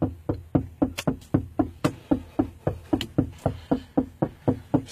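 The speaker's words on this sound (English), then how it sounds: "He been knocking for about 10 minutes." Steady, insistent knuckle knocks on a car window repeat about three or four times a second for several seconds, close and crisp, with no talking over them.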